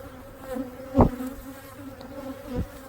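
Honeybees buzz around an opened single brood chamber hive during an inspection, a soft steady hum with a few individual bees passing close with louder brief buzzes, otherwise fairly faint and without talk.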